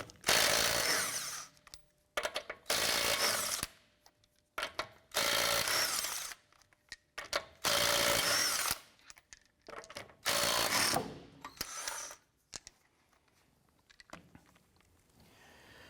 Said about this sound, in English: Using a 19mm socket, let's go ahead and remove our lug nuts